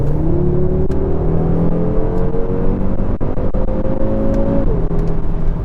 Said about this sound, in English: that 5-cylinder engine